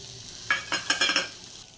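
Spice paste with ginger, garlic, cumin, chilli, melon seed and cashew paste is stirred in hot oil for a cauliflower curry, giving a quiet sizzle broken by several quick scraping strokes of a spoon against the pan.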